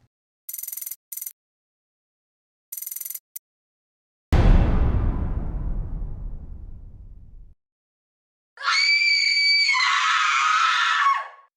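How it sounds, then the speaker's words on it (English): A mysterious eerie recording holds short bursts of harsh high noise, a sudden heavy crash that slowly decays, then a long wavering high-pitched scream after a pause of silence. "The screaming stopped."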